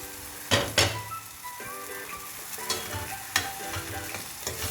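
Softened tomatoes for egg shakshouka stirred and mashed in a frying pan over a medium flame, with a few sharp utensil knocks against the pan over a low sizzle, no voices.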